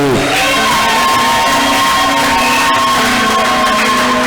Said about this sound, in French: Est-ce que tu peux faire de l'acclamation pour Jésus?